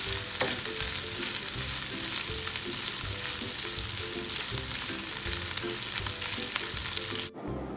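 Bacon sizzling and frying in a pan while it browns and renders its fat, a constant close crackle and spatter that ends abruptly near the finish, with no talk.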